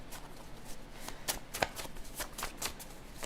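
Tarot cards are shuffled by hand in a steady run of soft, papery riffles and flicks, close and fairly quiet, with no voices.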